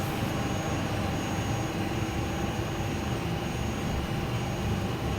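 Airbus A300-600 jet engines at steady, loud takeoff thrust on the runway in a flight simulator, a dense continuous roar with a thin high whine running throughout and no talk.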